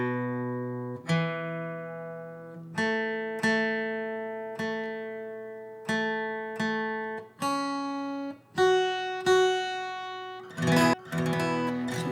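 A guitar's second string, set for drop D tuning with a capo on, is plucked again and again while tuned to E, each note ringing out and decaying before the next, then a few quick strums near the end.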